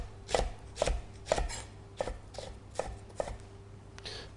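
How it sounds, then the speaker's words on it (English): A knife slices through leek on a chopping board at a slight angle, about seven distinct crisp cuts each ending in a soft thud, evenly spaced and close, with a low steady hum in the background. "I'm going to cut or slice at a slight angle"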